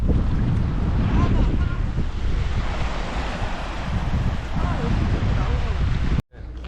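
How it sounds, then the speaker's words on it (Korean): Strong, cold sea wind buffets the microphone at a seaside campsite in a steady, loud roar, with surf-like rushing throughout and a brief dropout near the end. "바닷바람이 엄청나게 붑니다"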